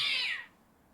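A cat gives a single short meow, fairly close and clear, with the cry falling away into near silence.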